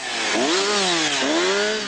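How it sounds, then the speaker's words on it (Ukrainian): A petrol chainsaw cuts discarded Christmas trees outdoors, its loud close engine whining steadily and rising and dipping in pitch as the blade bites in, with no talking. "Тоді на допомогу приходить бензопила."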